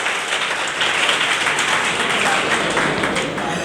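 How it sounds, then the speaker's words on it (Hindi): An audience at a NEET-2022 ceremony in Prayagraj claps for themselves in a steady, dense burst of applause lasting the whole moment, with a faint voice underneath. "एक बार खुद के लिए मेरी रिक्वेस्ट है कि खुद के लिए एक बार ताली बजा दो"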